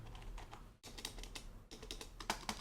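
Rapid, steady clatter of keys on a Modecom MC-5003 silent computer keyboard, close up, with a couple of brief pauses and slightly louder strokes near the end.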